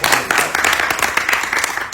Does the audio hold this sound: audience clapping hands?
yes